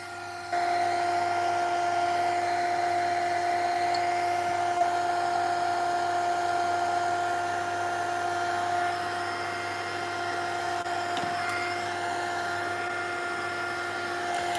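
A heat tool runs steadily while drying paint and wax on a piece of mixed-media artwork, a loud constant whining hum that starts abruptly and holds throughout with a slight drop in level partway.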